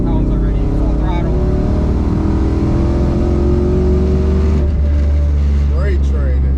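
A 1200+ whp twin-turbo car pulls hard at full throttle with a loud, continuous engine roar rising steadily in pitch from inside the cabin, then a brief shift before climbing again. A voice talks over the noise.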